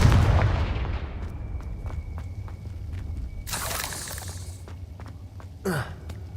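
The Confringo fire spell from Hogwarts Legacy bursts with a sharp explosive crack, the blast tailing off into a rumble before a second, sharper pop and crackle lands near the end.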